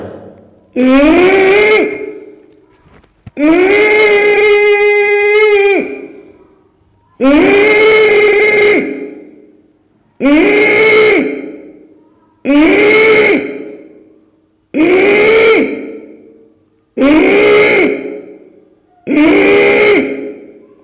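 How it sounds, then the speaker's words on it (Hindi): A person doing ujjayi pranayama, breathing forcefully through a constricted throat, eight long rasping breaths with a hoarse, voiced hiss, each followed by a short pause. "यहां पे उज्जाई प्राणायाम,"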